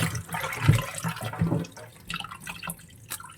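A large grass carp is rinsed in a vessel of water, with irregular splashes, sloshing and drips, a few sharper knocks, and quieter trickling toward the end.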